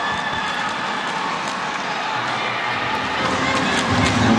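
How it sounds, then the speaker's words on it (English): Dense crowd roar at a men's team badminton final between Indonesia and Malaysia at the 2017 SEA Games, a steady, loud arena din of cheering that swells slightly toward the end. "Crowd loving anything resembling a smash."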